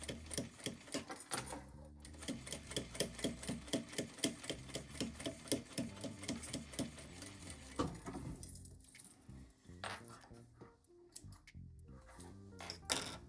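A sewing machine stitches fabric for a zippered pouch, its needle ticking in rapid regular bursts with short pauses between runs, fairly quiet and close with no talk.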